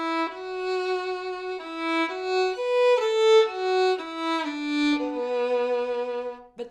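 A fiddle plays the Danny Boy melody solo, smooth bowed notes moving stepwise in a slow, singing phrase, close and clear with no talking.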